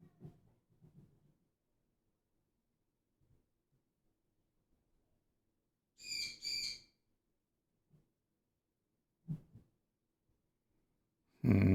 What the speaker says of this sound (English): I think your parrot wants to join in.